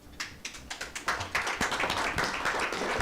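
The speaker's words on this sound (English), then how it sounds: "he deserves a better clap" Scattered claps from a small audience at a mental health festival event, sparse at first, then thickening into quicker, overlapping clapping that stays fairly faint and close.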